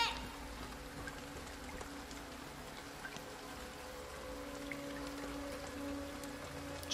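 Steady rain falls in a horror video game, a constant hiss of drops on surfaces with a faint hum beneath, continuous and even, with no clear speech.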